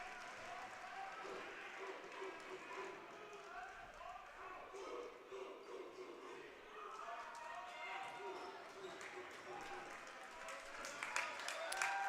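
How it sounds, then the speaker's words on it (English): Crowd of Eagles fans applauding at a high school boys basketball game between Georgetown and McAllen, steady indoor clapping and cheering throughout under gym noise, growing louder near the end. "Joseph Waring gets a round of applause from the Eagles fans as he checks out of the ball game."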